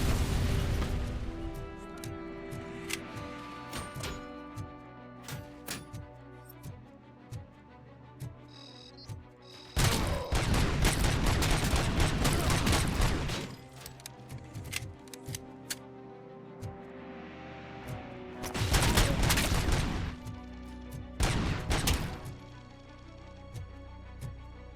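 Video game bombs and grenades go off, with sharp pops and clicks scattered throughout and two long, loud bursts of blasting noise, one early in the middle and one near the end.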